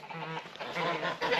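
Geese in a chicken run honking during a walk through the henhouse, a continuous noisy run of calls lasting a little over a second, close and fairly loud, with ducks kept among them.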